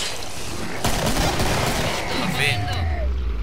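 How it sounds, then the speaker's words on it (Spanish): Dense bursts of gunfire from the co-op shooter game Killing Floor, with overlapping rapid shots that sound like a fusillade and machine-gun fire, rattling steadily throughout at a loud level. "Yo disparo por meter ruido."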